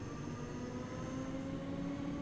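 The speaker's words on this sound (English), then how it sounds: "This train struggles to accelerate in anything but full power" A train in Train Sim World 5 on the Newton to Glasgow Central route, accelerating at full power with a faint, steady traction hum and whining tonal drone that hold evenly throughout.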